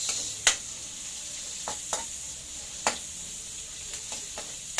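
Chopped onions sautéing in a pan with a steady soft sizzle and a few sharp clinks of a utensil stirring against the pan, heard alone and fairly close.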